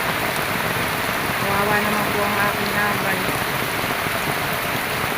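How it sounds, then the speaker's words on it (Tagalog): Heavy rain pours down on a farm in a steady, dense roar throughout, with a person speaking briefly underneath partway through. "Lalo pa pong lumalakas yung ulan."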